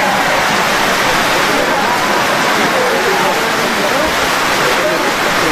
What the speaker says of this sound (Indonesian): Hujan itu turun, bukan jatuh.